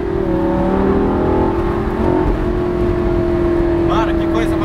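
A Lamborghini with a straight exhaust, its engine droning loud and steady with rising revs from inside or near the car, while people talk over it.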